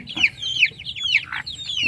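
Several chicks about six days old, Shamo chicks with a bantam hen, cluck and peep close by, quick high-pitched calls overlapping in a busy, continuous chatter.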